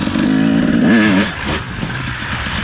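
A two-stroke motorcycle with a fresh top end revs hard and pulls in fourth gear, its loud raspy engine rising and falling in pitch before easing off into a rougher, fainter running sound.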